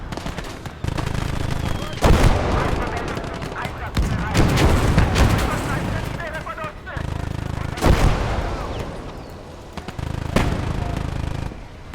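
Anti-tank infantry fire in the Kampfgruppe war game: repeated loud gunshot and artillery-like bursts at irregular intervals, with a voice talking between and under the blasts.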